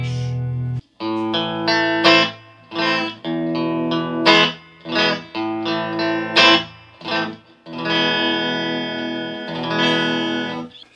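Electric guitar played with dirty, distorted tones through a small amp with an 8-inch speaker, a run of picked notes and sustained chords with brief gaps, close and loud.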